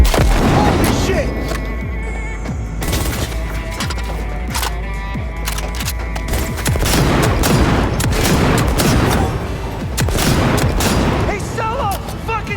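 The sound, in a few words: gunfire in Cyberpunk 2077 video game boss fight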